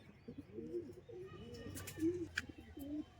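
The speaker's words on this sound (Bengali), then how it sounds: "খাঁচায় দেখি নর পায়রা এই দেখুন পায়রা" Pigeons cooing in a cage during a pigeon sale, soft repeated low coos close by, with faint background noise.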